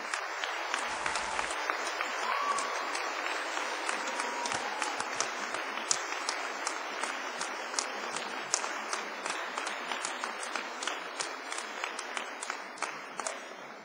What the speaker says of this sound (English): by giving them all a big round of applause.